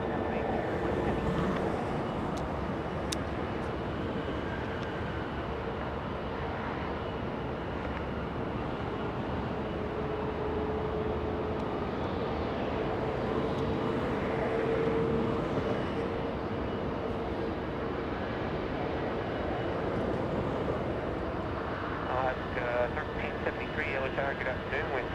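An airliner takes off from runway 24 Left at Los Angeles International Airport, a steady broad jet roar holding throughout with air traffic radio voices talking over it.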